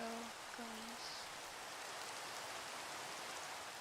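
Steady rain hisses evenly throughout in the game Minecraft with the Cobblemon mod, a soft continuous wash with a few brief tonal blips at the start.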